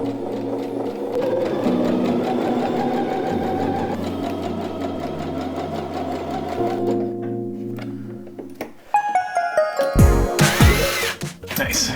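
A sewing machine hems the bottom edge of fabric for an RV bunk room remodel, running in a steady, close whirring stretch before stopping, followed by brief clattering handling sounds.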